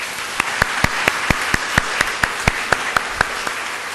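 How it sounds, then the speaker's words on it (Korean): An audience at the finals of a university debate contest gives a steady round of applause, with a few sharper, louder claps popping out at regular intervals from a nearby clapper over the dense crowd clapping. "큰 박수 부탁드립니다."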